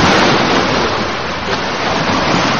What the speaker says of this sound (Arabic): في ذلك الصباح حيث لا صوت سوى هدير الموج وصيحات النوارس